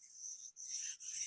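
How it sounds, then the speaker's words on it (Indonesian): An engine crankshaft is rubbed with sandpaper in short close strokes, a dry high scratchy rasp that breaks off briefly twice before continuing, with no voices. "ini yang nggak rusak, yang halus ini tetap kita harus amplas"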